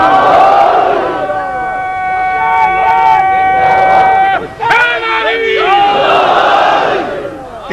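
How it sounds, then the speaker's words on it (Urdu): A large crowd at a religious majlis loudly chants salawat together, the massed voices rising in sustained waves with a brief dip before surging again, filling the space. "اتنی بلند صلوات بھیجے محمد علیہ محمد"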